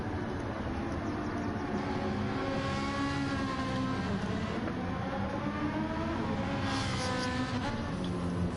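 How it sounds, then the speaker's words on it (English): A BMW and a Ferrari race car in Gran Turismo 7 at Circuit de Spa, with engines droning and revving through the gears in a steady, continuous whine and layered harmonic pitch sweeps, moderately loud with no talk. "Dano trying to get his BMW to catch up with that Ferrari."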